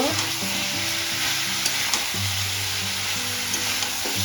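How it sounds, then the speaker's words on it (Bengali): Fish roe sizzles loudly as it fries in a hot pan, with steady crackling under intermittent scraping and stirring strokes throughout, close and continuous. "এখন মাছের ডিমগুলো দিয়ে দেব একটু নেড়ে চেড়ে নেব"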